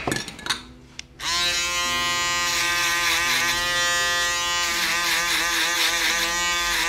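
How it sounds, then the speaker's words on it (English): An electric foil shaver runs on a low fade haircut in a barbershop, starting after a few clicks and a brief pause, then buzzing loud, close and steady with a shifting tone. "Then I'm going to come in and foil it out."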